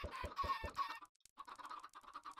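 Chickens in Minecraft cluck close by, a quick run of four or five sharp clucks, a brief pause, then a softer scattered stretch of clucking, with no one talking.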